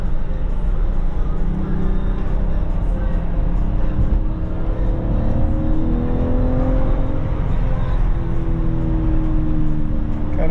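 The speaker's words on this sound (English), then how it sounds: "Kind of feel the turbos kicking in." A BMW M4 Competition Convertible accelerating on a Hawaii road as its turbos come on, the engine note climbing steadily under a constant rush of wind and road noise, close and loud throughout.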